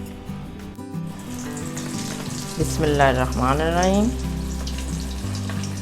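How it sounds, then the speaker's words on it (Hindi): Tea-time snacks frying in hot oil, a steady bubbling sizzle that swells louder midway through, with a spoken blessing murmured early on. "चाय हमारी बन चुकी है, इनको फ्राई करते हैं।"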